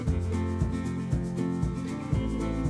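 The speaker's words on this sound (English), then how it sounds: "Once again, just rub that into the meat" Yellow mustard rubbed by hand into raw spare ribs, making a steady, close, slippery rubbing with rhythmic strokes about every half second, alone without speech.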